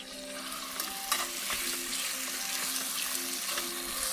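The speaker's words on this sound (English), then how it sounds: "Let's get the skin really crispy first. So I'm going to do skin down." Skin-side-down meat crackling in a pan on high heat at a van campsite near Joshua Tree, a continuous close sizzle with a few light clinks and tonal hums running underneath, with no one talking.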